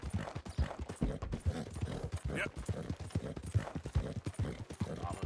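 Horse hooves clip-clopping at a steady trotting rhythm in the video game Red Dead Redemption 2, close and continuous, with someone speaking briefly over the hoofbeats.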